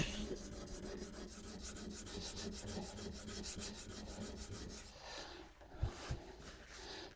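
A hand plane blade is honed on a sharpening stone, giving a steady rhythmic rasping rub of back-and-forth strokes for several seconds, then a pause with a couple of soft knocks near the end.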